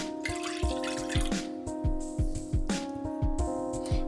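Warm milk and warm water are poured into a bowl while making soft poğaça dough, giving a run of small dripping and trickling splashes over steady background music.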